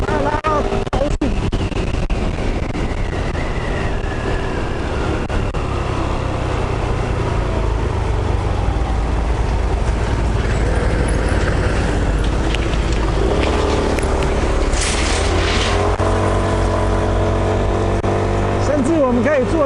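A VJR scooter fitted with a fuel-injected 61mm cylinder kit revs steadily toward high speed, its engine drone continuous and loud throughout, with a rising pitch toward the end and speech over it.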